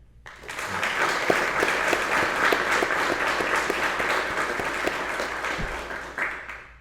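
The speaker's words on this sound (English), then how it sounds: "How about another round of applause for your cadre that got you here?" Applause for the academy cadre at a Border Patrol Academy Class 1158 graduation, a full room clapping steadily and close for several seconds before tapering at the end.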